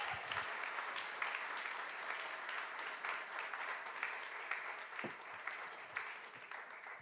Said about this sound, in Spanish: A ver cómo sería un mejor aplauso.